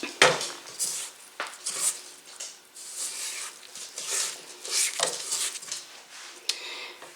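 A spatula scraping down a mixing bowl of sugar cookie dough, giving repeated close clinks and scrapes in an irregular rhythm.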